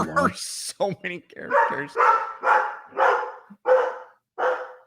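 A dog barks excitedly indoors, a rapid run of about six loud, clear barks following a short stretch of speech, with a few quick yips at the start.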